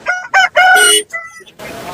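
A white rooster crows loudly nearby at a market in one long, strained call, breaking off at the end, followed by a brief stretch of background noise.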